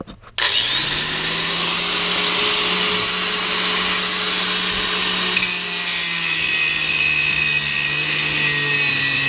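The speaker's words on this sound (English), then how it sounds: "when I come back with the drill gun, I'm just gonna drill those out" A power drill drilling out rivets on a third-generation Toyota Tacoma leaf spring hanger whines steadily at high speed after a brief start, its pitch holding nearly constant with a slight shift partway through, loud and close.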